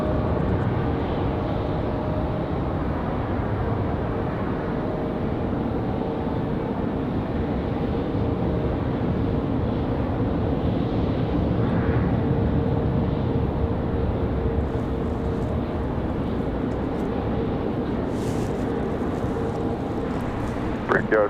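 A JetBlue Airbus A220 airliner taxis out at Raleigh-Durham airport, its engines a steady, moderate whine and rumble that continues evenly in the distance, with someone talking over it.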